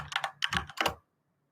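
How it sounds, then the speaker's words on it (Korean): Computer keyboard typing, three quick bursts of clustered key clicks close to the mic, then abrupt silence. "이거 타이핑 소리가 들어가나 봅니다."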